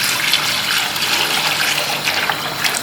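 Water pours steadily into a cooking pot of browned beef for haleem, a continuous close rushing splash with no breaks.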